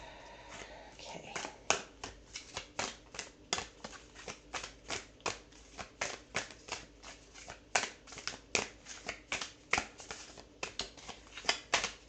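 Star Code Astral Oracle cards being shuffled in a long run of quick, crisp riffling bursts, fairly close and steady in rhythm, with no talk over them.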